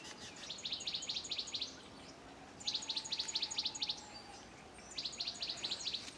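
Wild birds perched on blackberry bushes giving bursts of rapid, high-pitched chirps in three repeated trills at moderate distance, over faint outdoor background hum.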